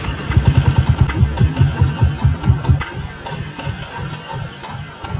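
A Bristol Invictus 160 motorcycle engine cranks with rapid pulsing chugs, then catches and settles into a rough, uneven idle, close and loud, after smoke was seen from it.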